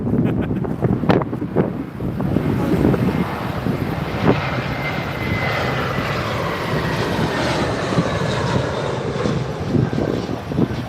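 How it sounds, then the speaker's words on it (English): Loganair ATR 72-600 turboprop from the Isle of Man arriving at London Heathrow runway 27R, a loud continuous engine drone with a sweeping propeller tone, mixed with wind buffeting on the microphone. "Loganair's coming in from the Isle of Man, ATR"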